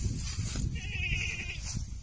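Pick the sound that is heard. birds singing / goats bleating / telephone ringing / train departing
goats bleating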